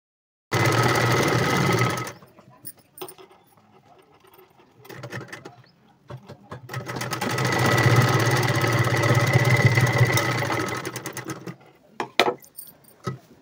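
A sewing machine straight stitches a blouse in two long close runs, a loud steady mechanical whir with quiet handling and clicks between, ending in a few short stuttering bursts.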